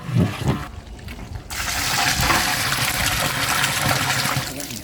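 Water poured from pots into a large vessel during outdoor cooking of jackfruit biryani for 300 people in Pollachi, a steady continuous rushing splash after a brief start, fairly loud and close, with no talk.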